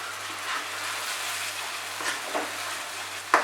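Masala and tomato paste sizzling as they are sautéed in a pan for Bengali katla fish kalia, a soft, continuous hiss with a few faint stirring scrapes and a sharp clink near the end, with no talk.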